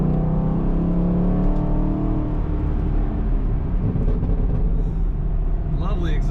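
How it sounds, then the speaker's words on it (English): A 2019 Chevrolet Camaro 2SS Convertible's V8 exhaust drones steadily while driving, a loud continuous low rumble with engine harmonics and wind noise, a brief higher whine near the end. "Lovely exhaust sound from this car."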